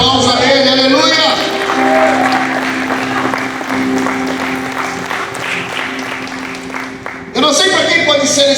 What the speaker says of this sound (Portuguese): dê um aplauso a Ele, aleluia